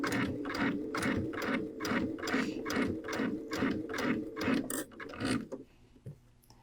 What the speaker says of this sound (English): it's stitching my binding down to the top side of my quilt